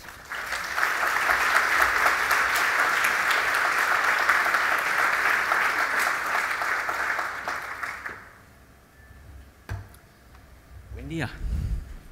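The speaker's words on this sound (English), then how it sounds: "please welcome Dr. Chatters with a warm applause" Conference audience gives keynote speaker Dr. Chatters a warm round of applause, dense sustained clapping for about eight seconds that fades out, followed by a few scattered sounds in a quieter room.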